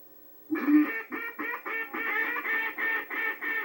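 Ducks quack in a rapid, close series of about ten loud calls with a steady rhythm, answering duck hunters' calling.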